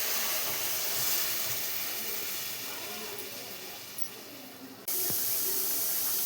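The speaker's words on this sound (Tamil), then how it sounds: "தண்ணி ஊற்றிக்கலாங்க." Water hits a hot pan of sautéed tomato and onion for fish curry with a steady, loud hiss and sizzle, which cuts off abruptly near the end.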